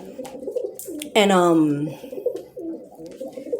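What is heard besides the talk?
pigeon cooing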